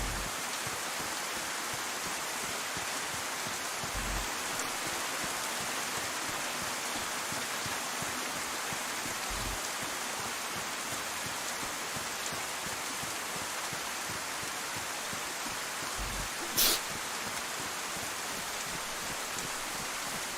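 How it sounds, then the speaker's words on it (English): Steady, dense rain hisses evenly in the DayZ survival game, a constant wash of falling water with a few faint low thumps and one brief sharp tick. "Luckily the rain covers a lot of your noise."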